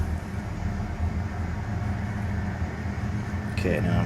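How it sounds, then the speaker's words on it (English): A train rolls past at a steady pace, a continuous low rumble and rattle heard at moderate distance, with faint higher noise creeping in near the end. "Oh, there's a train coming."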